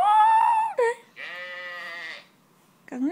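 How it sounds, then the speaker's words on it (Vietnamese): Loud, close sheep bleats: a long quavering baa, a shorter cry and another sustained bleat, ending with a brief rising call. "Con đó là con cừu."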